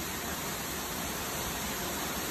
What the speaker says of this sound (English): what a pretty beautiful waterfall